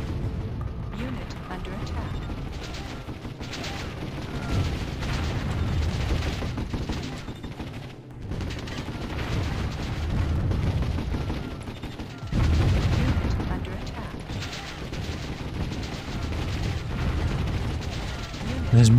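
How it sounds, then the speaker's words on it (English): Mortar fire in the strategy video game Warzone 2100 gives steady, rumbling thumps and blasts, mixed with other gunfire, fairly loud and continuous across the whole stretch, with a voice talking over it at times. "Those mortars are pretty intense"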